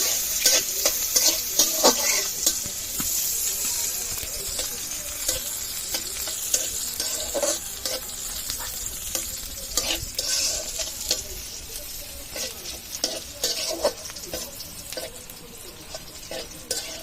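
Garlic and onion fry in a pan while a spoon stirs them, making a steady bright sizzle with frequent scraping clatter throughout, close and continuous.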